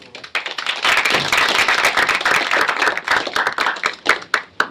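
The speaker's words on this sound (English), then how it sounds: "let's give a round of applause for Bill" Audience applause for a speaker at a presentation, a dense, loud burst of many hands clapping close by, holding steady for several seconds before thinning into scattered individual claps at the end.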